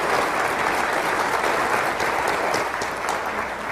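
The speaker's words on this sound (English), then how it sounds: "Let's thank our panelists with our applause." Sustained applause from a conference audience for a health care reform panel, a thick, even roar of many clapping hands holding steady throughout with no talking over it.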